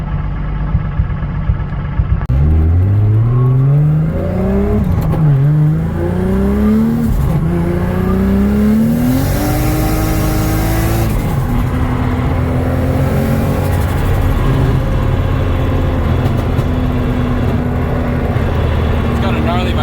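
A drift car engine revs and climbs repeatedly while sliding in third gear on a tight track, the pitch rising and falling in loud sweeps under ongoing talk.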